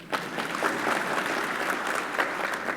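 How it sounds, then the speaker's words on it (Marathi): An audience at the Belagavi District Suvarna Sammelan claps steadily for about three seconds, a dense and even burst of applause with no talk over it. "टाळ्या वाजवा बघूया."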